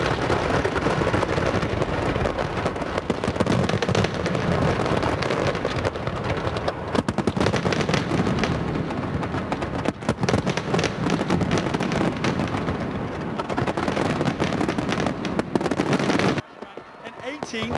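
A New Year fireworks display over London, a dense, continuous barrage of booms and crackling bursts rolling on loud and unbroken before cutting off near the end.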